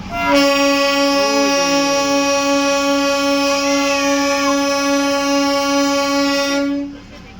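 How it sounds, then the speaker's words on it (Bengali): At Darjeeling station, the toy train sounds a long, loud, steady horn that holds for about six seconds before cutting off, close by over faint background bustle. "এই টয় ট্রেন ছাড়ার জন্য রেডি হয়ে রয়েছে"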